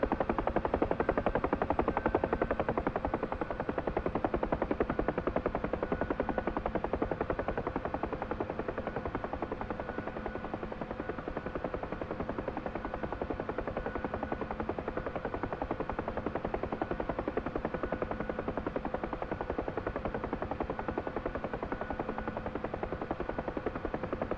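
A helicopter in the DCS flight simulator comes in slowly to land, its rotor and turbine making a steady, loud, even drone with no voices, holding nearly constant from start to finish.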